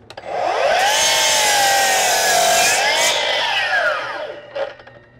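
A Milwaukee power saw cuts through a pressure-treated 4x6 of lumber in one continuous, loud pass, its motor whine dipping and rising under load before spinning down, followed by a brief knock.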